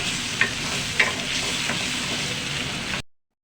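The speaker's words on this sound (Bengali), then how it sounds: "তো এটাকে একটু ভালো করে নাড়াচাড়া দিয়ে নিতে হবে।" Onions stirred in hot oil for a hilsa bhuna, sizzling steadily with a few scraping spoon strokes, close and fairly loud, then a sudden cut to silence.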